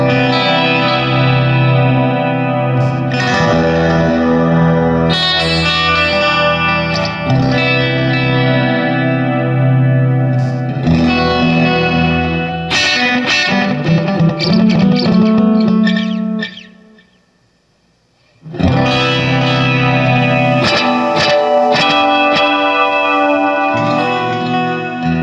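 A Strymon Volante magnetic echo pedal sets a sustained, distorted guitar-like tone repeating through feedback echoes that smear and tail off, then fade into a brief near-silence before the loud layered tone returns.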